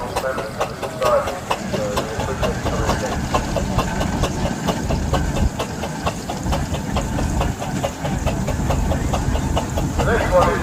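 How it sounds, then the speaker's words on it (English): A Ball single crank compound traction engine named Cornishman runs steadily at a steam rally, its rhythmic chuffing beats and hiss continuous throughout, close and moderately loud amid outdoor crowd noise. "Next we have a Ball single crank compound traction engine called Cornishman."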